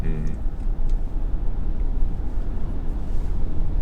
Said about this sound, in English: Just hear wind noise.